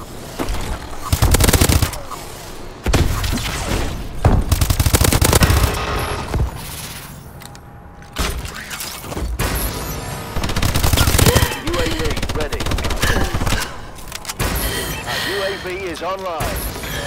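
Remote turret machine gun fire in Call of Duty: Advanced Warfare: loud, rapid bursts of automatic gunfire repeat throughout, with short pauses between them, over game effects and an announcer's voice.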